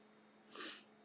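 A single sneeze, faint and brief, rising out of quiet room noise in the middle of the moment and then fading, with nobody talking.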